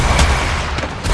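Rapid bursts of gunfire in the mobile shooter Apex Legends Mobile, several sharp loud shots in quick succession over a dense, noisy battle background.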